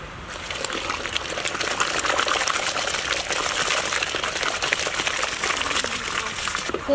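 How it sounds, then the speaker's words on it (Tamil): Water is scooped and poured to rinse cauliflower in a home kitchen while cooking kathirikai kulambu, giving a continuous close trickling and splashing sound with no talk. "அதுலேயே காலிஃப்ளவர் சுத்தம் பண்ணுறதுக்கு கொஞ்சம் தண்ணி மொண்டுக்கலாம்."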